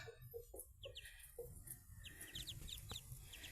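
Young ducklings being fed peep and cheep in quick, high little calls that grow busier toward the end, mixed with soft lower clucking.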